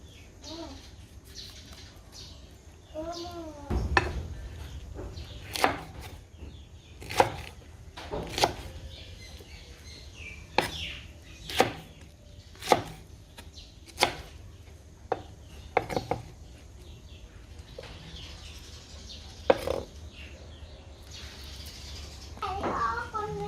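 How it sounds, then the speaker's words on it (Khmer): Steady knife chops through pickled mustard greens on a cutting board, one sharp knock about every second, close by, with brief talk at the start and birds faintly behind. "ចាឥឡូវយើងមកនេះហាន់ស្ពៃ"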